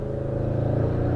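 A 730 bhp Audi RS6 held in second gear rumbles steadily and loudly around a corner, its exhaust note echoing off nearby rock walls in a deep, continuous drone.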